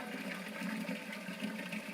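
Water pours steadily from a plastic rain barrel filled with rainwater at an off-grid log cabin, a continuous close splashing rush with no talking.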